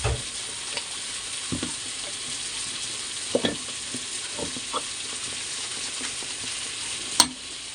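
Cauliflower stalks being shaken and tossed in a frying pan with a little water, giving a steady soft sizzle broken by scattered scrapes and knocks and one sharp clatter near the end.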